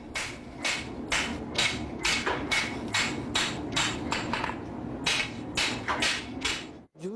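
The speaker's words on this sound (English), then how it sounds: "One hammer to shape the sword." Single hammer forging a steel sword blade on an anvil in a Japanese swordsmith's workshop, steady rhythmic ringing strikes about twice per second, loud and close, with a brief pause near the end.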